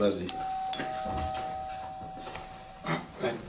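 A doorbell sounds a steady sustained tone across most of the moment in an indoor home, with a person speaking over and around it.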